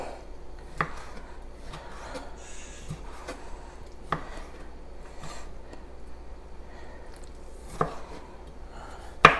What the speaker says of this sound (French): Il faut hacher avec le couteau. Couper en morceaux.